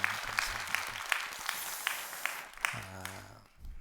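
Church congregation applauding for the pastor, a broad steady wash of clapping that fades out near the end as a voice begins speaking.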